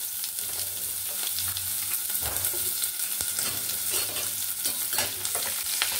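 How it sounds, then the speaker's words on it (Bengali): Chopped onion frying with cumin seeds and asafoetida in hot oil for dal tadka, a loud continuous sizzle close by with intermittent stirring scrapes and spatters. "এবার আমি এখানে দিলাম জিরে ফোড়ন, তারপরে দিলাম হিং, তারপরে দিলাম পেঁয়াজ কুচনো"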